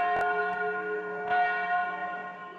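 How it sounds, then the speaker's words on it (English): Church bells ring at the Church of the Nativity in Bethlehem, with steady sustained tones, two sharper strikes and a slowly fading hum, heard alone without talk. "Bells at the Church of the Nativity summoned the faithful to the little town of Bethlehem."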